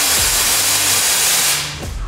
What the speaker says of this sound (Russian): Давайте проверим сопло Лаваля.